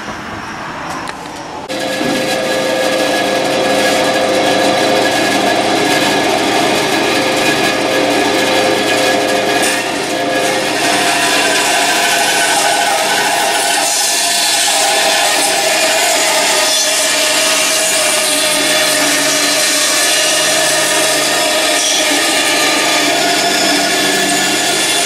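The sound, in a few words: bandsaw cutting a section of wood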